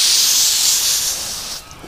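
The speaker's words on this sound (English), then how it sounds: "You just don't spray him right in the eyes." Water sprays steadily onto a duck's head at close range during a shower to clean his face, a loud continuous hissing spray that eases off near the end.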